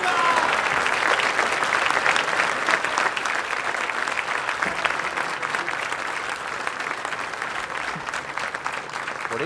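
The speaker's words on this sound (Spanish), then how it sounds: "Agradecemos y despedimos con este fuerte aplauso al señor presidente de la Nación, doctor Javier Milei." Large crowd applauding Argentine President Javier Milei at the close of his speech, loud, sustained and dense clapping with faint crowd murmur mixed in, steady from start to finish.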